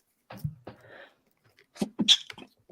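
A single sharp sneeze up close, followed by a brief breathy sound, with quiet moments around it.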